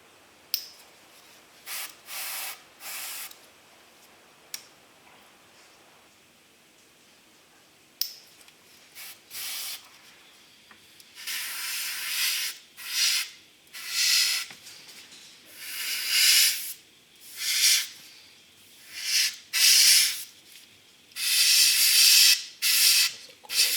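AK 3G primer sprayed from an aerosol or airbrush in short hissing bursts, a few sparse puffs at first, then a regular run of longer close bursts with brief pauses between them.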